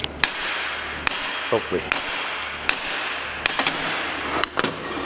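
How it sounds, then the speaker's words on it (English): A hammer strikes a vehicle drive shaft to drive out a U-joint cup, giving several sharp metallic whacks at uneven intervals against a steady workshop background. "Then we're going to whack this shaft back here. This cup is going to drive up,"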